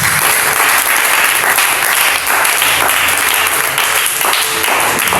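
A church congregation applauding, dense sustained clapping from many hands filling the room, loud and steady without a break.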